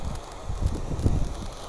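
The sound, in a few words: strong wind blowing outdoors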